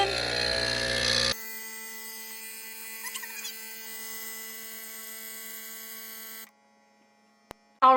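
Single-serve coffee pod machine brewing espresso into a cup set on a prop: a steady electric pump hum with faint squeaky gurgles, running several seconds alone before cutting off abruptly near the end.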